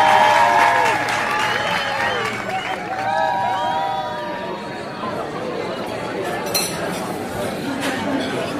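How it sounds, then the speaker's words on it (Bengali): Guests at a birthday gathering, with a cake being cut at the table, clap amid murmured chatter, clinking dishes and cutlery, and a light musical melody in the background. "সবাই হাততালি দিয়ে ওনাকে জন্মদিনের শুভেচ্ছা জানাচ্ছে।"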